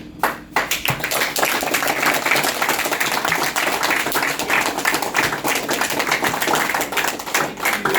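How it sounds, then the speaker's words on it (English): An audience at a Toastmasters International youth leadership event clapping hard and continuously for several seconds, a dense, loud wash of hand claps that swells in after a brief pause and holds steady before tapering. "I will start the clap and I'll see who claps louder than me."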